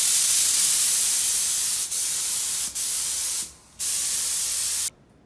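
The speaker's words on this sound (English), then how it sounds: "we're just going to finish spraying the project." Continuous loud hissing of an air spray gun spraying latex paint, with short breaks between passes, ending in a sudden stop.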